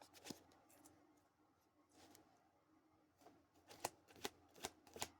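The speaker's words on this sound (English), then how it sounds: "One more shuffle for Gemini" Soft riffling of tarot cards being shuffled, quiet and close, ending in a quick run of crisp snaps as the deck is bridged or tapped.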